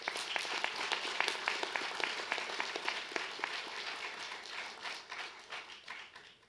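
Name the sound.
graduation ceremony audience applause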